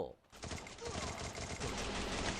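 Rapid sustained gunfire in the mobile battle royale game Garena Free Fire, a dense loud stream of shots after a brief quiet start, continuing without pause over background game sound.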